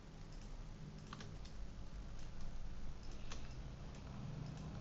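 Faint computer keyboard taps and mouse clicks come while someone marks points on a surgical guide curve in design software, scattered light ticks over a quiet room hiss.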